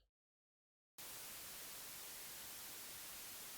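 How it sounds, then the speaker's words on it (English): White noise from a VCV Rack synthesizer module cuts in abruptly after a second of silence and holds as a loud, steady, full-band hiss to the end. "This is just white noise"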